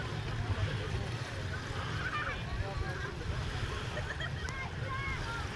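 Motorboats run on the river beside a crowded city beach in Yakutsk on a hot day, a steady low engine drone mixed with wind and water noise, with people talking over it.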